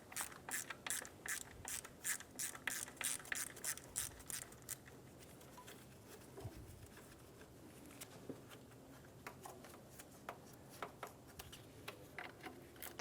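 A 10mm socket ratchet clicks in quick, steady bursts while loosening the alternator ground strap on a 2007-2012 Nissan Altima, close up at first, then giving way to softer, scattered clicks and light rubbing of metal.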